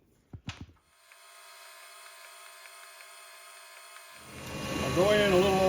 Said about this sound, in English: I'm going to drill through there with a 1/8 hole.